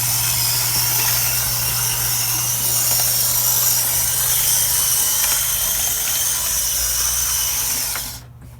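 A model Santa Fe F40 locomotive, temporarily converted to a dummy, runs along its track with a steady, loud motor whir and hum that holds evenly for about eight seconds before cutting off abruptly.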